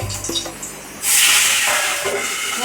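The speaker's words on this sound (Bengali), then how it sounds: "এই মাছগুলো না ভীষণ ফাটে, এই জন্য এগুলো খুব সাবধান মতো দিতে হয় কড়ার মধ্যে" Pabda fish hitting hot oil in a karahi, a sudden loud hiss and spatter that bursts up after a quiet second and keeps crackling steadily nearby.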